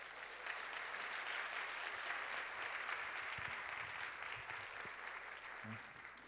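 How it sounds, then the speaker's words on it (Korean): A youth worship congregation in a Korean church applauds steadily to welcome an elder to the front, a continuous, fairly distant wash of clapping with no speech over it. "우리 장로님 나오실 때 큰 박수로 모시겠습니다."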